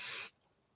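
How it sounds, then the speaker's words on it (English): A burst of stencil spray hisses onto a leather piece, loud and close for about a quarter second, then cuts off abruptly into near silence. "Let me just give this a little bit of stencil spray"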